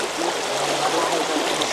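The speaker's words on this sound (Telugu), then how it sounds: "చూడండి, పక్కనే వాగు కూడా ఉంది." A small stream runs beside a farm field, its steady close babbling and trickling heard alone and unbroken.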